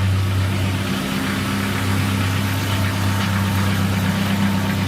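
A vehicle engine idles through a newly fitted universal exhaust muffler, a steady loud low rumble with a constant droning hum and no talking.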